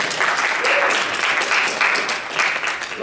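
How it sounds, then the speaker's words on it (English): An audience at the Kitacon Invasion 2014 convention applauds a panel, a dense, steady patter of many hands clapping at full strength for about three seconds. "So, round of applause for our panel there."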